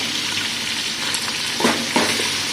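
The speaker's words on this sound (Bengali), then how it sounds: "মাংসগুলো পেঁয়াজের ওপরে দিয়ে দিচ্ছি। খানিকটা আদা রসুন মিক্স করে বাটা দিয়ে দিচ্ছে।" Meat frying on onions with ginger-garlic paste, a dense steady sizzle close by with a few louder stirring bursts toward the end.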